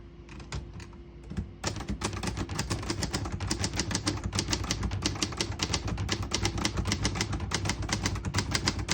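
Steady, fast typing on a 1970 Hermes 3000 portable typewriter, close and crisp, with dense rapid keystrokes that begin after a brief quieter pause and continue without interruption.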